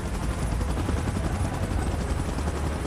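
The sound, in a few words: helicopter in BGMI video game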